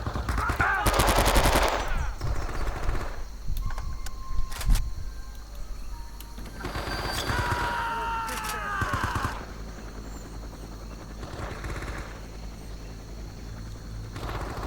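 Video game battle in Men of Valor, set in Cu Chi: bursts of machine-gun fire rattle in long volleys, with shouting voices and mechanical clatter between the loud, close bursts.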